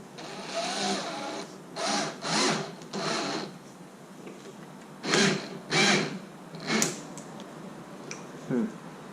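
A hand screwdriver or drill drives screws into a door to mount a lock, giving short whirring bursts in two groups with quiet pauses between them.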